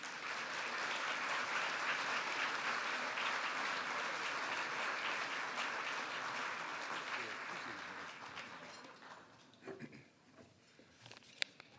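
An audience applauds to welcome Congressman Burgess Owens at a national legislative summit: dense, steady clapping for about nine seconds, then thinning to a few scattered claps.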